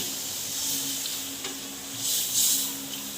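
Aromatics sizzle in a pan for ginataang gabi, a steady close hiss of frying with brief stirring scrapes and a swell of sizzle near the end.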